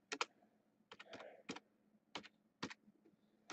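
Someone types on a computer keyboard, hunt-and-peck style: sparse clusters of crisp key clicks with pauses between them, close but quiet, and no talking.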